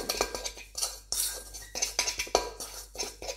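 Flours and tonka bean stirred together in a bowl for a génoise, a utensil scraping and clinking against the bowl in quick rhythmic strokes, close and clear with no talking.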